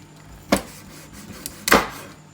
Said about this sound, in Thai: สำหรับหมูที่เราย่างเสร็จนะคะ แล้วก็หั่นเป็นชิ้นพอคำนะคะ ชิ้นเล็กๆค่ะ